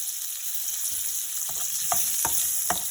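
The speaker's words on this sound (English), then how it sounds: "once your garlic has browned, just like that, what you want to do is, next up, you want to throw in your roughly chopped onion" Roughly chopped onion hits a pan of browned garlic and fries with a steady close sizzle, punctuated by several sharp scraping stirs of a utensil against the pan.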